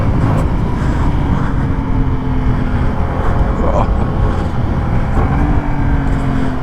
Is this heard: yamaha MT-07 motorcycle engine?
yes